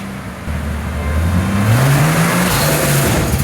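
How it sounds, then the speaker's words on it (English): A car engine, part of a broken project car in Australia, revving up high before a clutch release, the loud drone climbing steadily in pitch and holding near the top, close and with no talk over it. "Just rev it all the way up?"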